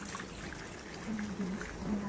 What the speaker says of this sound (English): 325 grams of water into the container